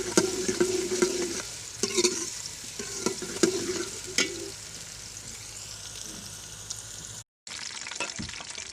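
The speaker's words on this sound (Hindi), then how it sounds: "अब हम इसके अंदर प्याज डालेंगे। प्याज़ों को अच्छी तरह भून लेना है।" Onions fry in hot ghee, sizzling steadily while a spoon scrapes and stirs in repeated strokes, fairly close but modest in level, with a short gap near the end and no talk.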